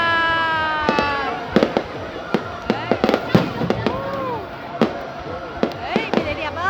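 Fireworks burst repeatedly at a public display in Hai Duong, sharp popping explosions at irregular intervals with crackle and whistling rises, heard at a distance while people talk and exclaim nearby.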